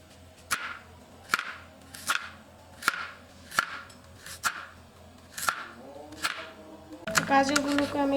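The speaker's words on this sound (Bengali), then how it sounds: "গাজরগুলোকে আমি এভাবে কুচি কুচি করে কেটে নিচ্ছি।" Carrots being finely chopped with a knife for a homemade pasta dish, giving steady, evenly spaced sharp chops close by, about nine strikes, followed by a short louder clatter at the end.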